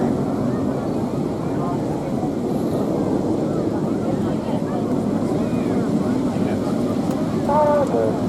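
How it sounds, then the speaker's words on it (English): Display aircraft at the Torbay Airshow make a steady, broad engine roar as they fly past, with a commentator talking over the continuous drone. "We have the 4 aircraft running in from the right-hand side."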